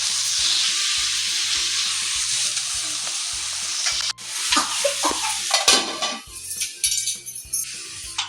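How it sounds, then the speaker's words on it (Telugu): Gongura leaves sizzle steadily in a hot pan while a spoon scrapes and clinks as they are stirred, over a looping background melody. "గోంగూర దీంతో పాటు వేగుతుంది అనమాట"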